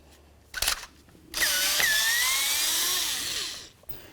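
A power drill or impact driver backs out a window regulator motor bolt on a 1999–2007 Ford Super Duty F-250, a short burst followed by a sustained loud whir that slowly winds down, close up.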